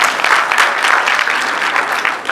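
An audience claps steadily at a Punjabi book award ceremony as a prize is presented, the applause dense and sustained throughout without letting up.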